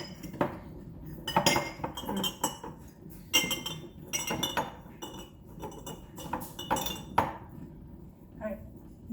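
Peppers are pushed into glass pickle jars, giving repeated sharp clinks and taps of glass knocking together, close and fairly quiet, in irregular bursts with pauses between.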